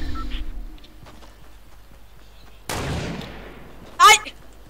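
Gunfire in the video game Fortnite: a sharp shot that decays over about a second, then a second loud, brief crack a moment later, both standing alone over quiet game ambience.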